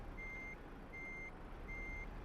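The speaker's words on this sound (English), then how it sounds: "let's stop that beeping" Reversing alarm of a truck in Euro Truck Simulator 2, three evenly spaced steady tonal beeps over a constant low engine rumble, heard alone at low level.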